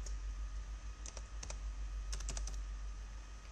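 A computer keyboard is tapped as a date is entered, giving short bursts of quiet, close keystrokes over a low steady hum, with no speech.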